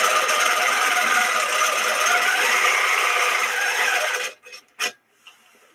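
A quilting machine stitching a feather pattern along a ruler gives a steady, loud mechanical whir that runs continuously and then stops abruptly, followed by a few brief clicks.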